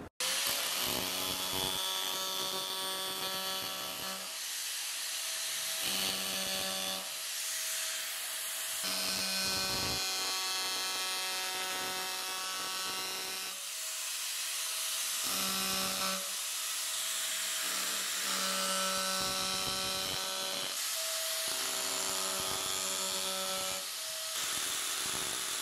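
An Arbortech power chisel carves lettering into wood, its buzzing motor running in repeated bursts of a few seconds each over a continuous low hum, close and steady throughout.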